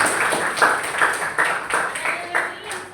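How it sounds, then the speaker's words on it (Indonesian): A classroom group claps in a regular rhythmic pattern, a quick patterned cheer of evenly spaced bursts roughly every half second, fairly close and clear. "Tepuk tangan."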